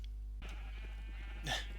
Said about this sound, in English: Noisy sheep.